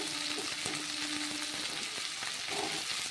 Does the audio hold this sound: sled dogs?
no